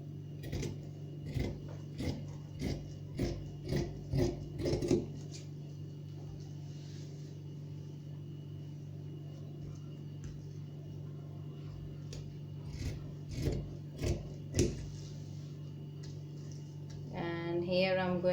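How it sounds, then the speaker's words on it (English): Scissors snip through fabric while cutting a kurti sleeve, a quick run of sharp, rhythmic clicks close by, a pause, then a second burst of snips over a low steady hum. "I'm going to cut at this line"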